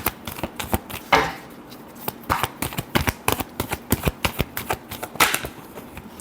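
A deck of tarot cards is shuffled by hand, producing a rapid series of crisp riffling snaps and flicks, close and fairly loud, with a few louder bursts among the quicker clicks.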